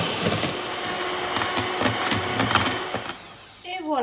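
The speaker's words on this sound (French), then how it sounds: "Et je vais battre avec le batteur électrique" An electric hand mixer whips egg whites with a pinch of salt for a Christmas yule log, a steady close whirring drone with rattling beaters that cuts out near the end, followed by a brief voice.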